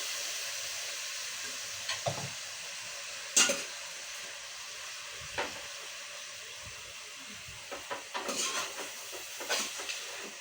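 Pochero being stirred in a pot, with scattered scraping and clinking strokes over a steady low sizzle, a few louder knocks standing out near the start and toward the end.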